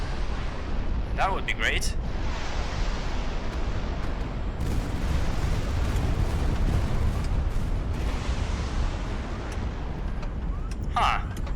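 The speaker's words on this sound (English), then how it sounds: "please listen to this A220 rockets flying at you" Heavy barrage of A220 rockets streaking in and bursting in the video game HighFleet, a dense, loud rumbling roar with sharp cracks layered throughout, and a voice speaking briefly over it.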